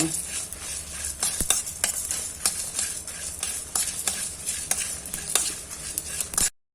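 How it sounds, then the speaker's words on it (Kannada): Cumin and coriander seeds dry-roast in a pan for a prawn curry masala, with a faint crackling sizzle under repeated scraping stir strokes that click steadily and close up until the sound cuts off abruptly. "ಅದೇ ರೀತಿ ಕೊತ್ತಂಬರಿಯನ್ನು 1 ಚಮಚೆ ತಗೊಂಡಿದ್ದೇವೆ. ಇದನ್ನು ಕೂಡ ಇಲ್ಲಿ ಹುರಿಲಿಕ್ಕಿದೆ ಸ್ವಲ್ಪ."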